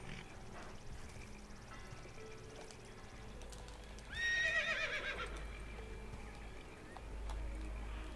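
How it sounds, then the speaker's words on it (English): In Assassin's Creed Brotherhood, a horse whinnies loudly partway through, with hoofbeats and faint background ambience before and after. "Can I get off this horse, please?"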